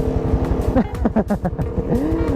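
Yamaha Sniper 155 motorcycle with a modified muffler exhaust, revving loudly up close in short rising bursts over a rumbling idle, with a voice speaking briefly in between.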